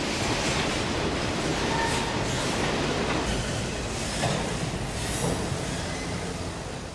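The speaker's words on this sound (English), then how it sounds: "Listen to the flanges squeal on the curve" A CSX freight train rumbles around a curve in LaGrange, its wheel flanges giving faint metallic squeals over a loud, continuous rolling roar, close by and without voices.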